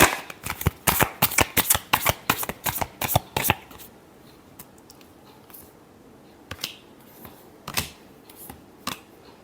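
Tarot cards are shuffled in a quick run of sharp, crisp riffling snaps close up. The sound then thins to a few scattered single flicks and taps.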